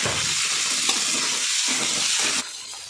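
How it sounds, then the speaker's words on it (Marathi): Green chili and coriander thecha with tomatoes sautéing in a pan for a cowpea curry, a steady close hiss of sizzling with soft stirring scrapes that cuts down sharply near the end. "हिरवी मिरची आणि हे कोथिंबिरीचं ठेचा वाटलेला तो टाकून घेतला तर हा पण चांगला परतवून घ्यायचे"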